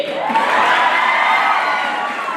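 Crowd at a youth festival declamation contest in Nagarkurnool applauding and cheering loudly for a prize winner, a sustained dense roar of clapping and whoops with no break.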